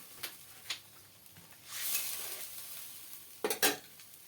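Fish and leafy greens cooking in a pan just after water is poured in, giving a soft hiss that swells in the middle, with scattered utensil scrapes and a couple of sharp clinks near the end.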